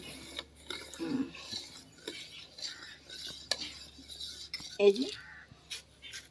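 Rice flour batter for dudh chitoi pitha being mixed with warm water in a bowl: quiet scraping and clinking stirs in irregular strokes, with faint voices nearby.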